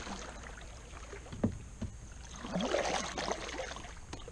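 A kayak paddles through shallow water on Prettyboy Reservoir in early autumn, with quiet splashes and drips from the strokes and a scrape or knock against something, all soft and close over light wind.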